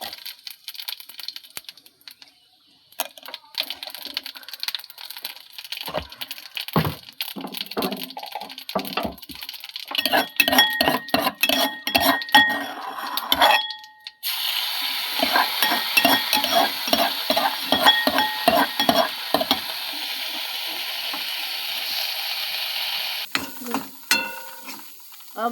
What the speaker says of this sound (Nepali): अब जिरा हाल्न लागेको छु।